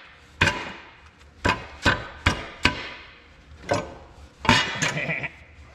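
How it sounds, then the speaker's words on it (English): A meat hammer striking metal in sharp, ringing taps while installing a diesel injection pump and injectors, about eight irregular blows close by, loud against a quiet background. "Meat hammer here."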